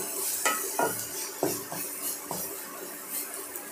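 Vegetables for a spicy veg sandwich filling stir-fry in a pan, with a steady sizzle under several distinct scraping strokes of a spoon against the pan, spaced irregularly and close by.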